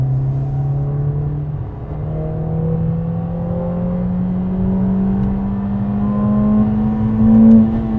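Synthesized engine note of a Mercedes-AMG CLA 45 four-cylinder, piped through the cabin speakers, rising steadily in pitch as the car revs and pulls through a low gear, loud and continuous with no talking.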